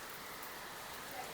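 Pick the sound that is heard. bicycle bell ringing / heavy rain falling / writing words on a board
heavy rain falling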